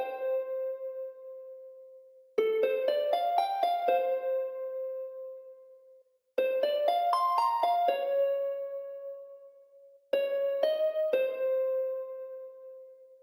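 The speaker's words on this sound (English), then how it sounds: "The next sound that I put down was this harp." Harp lead melody for a Nintendo-style beat: bright plucked notes in short rising phrases over a held tone, repeated three times with brief gaps, clean and alone.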